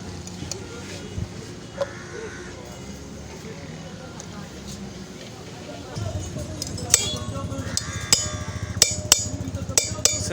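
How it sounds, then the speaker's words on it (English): Mechanic loosening wheel hub bolts on a 2020 Bajaj Boxer X150 motorcycle, scattered metallic clinks and taps that grow sharper and more frequent toward the end, close by, with someone talking throughout. "he's trying to loosen all of this so that the bolts can come out."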